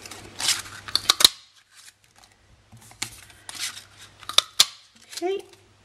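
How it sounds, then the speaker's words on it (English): A tiny butterfly paper punch snaps through scraps of cardstock in a few sharp, close clicks, separated by quiet pauses and light paper handling. "using the itty bitty butterfly punch, from each scrap of card, I'm just going to punch out one"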